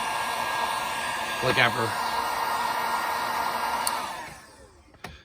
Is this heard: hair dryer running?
yes